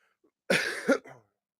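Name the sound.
coughing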